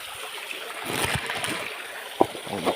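Fresh stream water flows and splashes nearby at a rural freshwater spot, a soft continuous gurgle broken by a few small sharp splashes.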